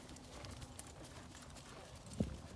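Young racehorses walk on a wet day, their hooves clip-clopping faintly at a distance with one sharper knock near the end, under steady outdoor background noise.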